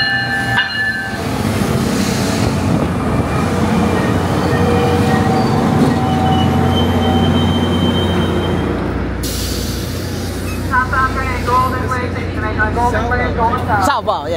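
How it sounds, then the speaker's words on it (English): A train on a Miami rail line rumbles and rolls close by, with a brief horn early on, a steady clatter of wagons, and squealing wheels toward the end. People talk over the noise. "All right, we're getting on the train."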